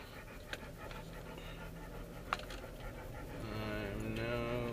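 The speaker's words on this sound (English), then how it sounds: "You can probably hear him breathing all heavy." A hot dog with freshly shortened nails breathes heavily inside a car, with soft, rhythmic panting under a steady engine hum that swells near the end.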